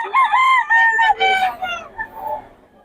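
Rooster, a Kelso-cross gamecock stag, crowing at a gamecock market, one strong drawn-out call close by, tapering off with softer fowl sounds and faint background chatter.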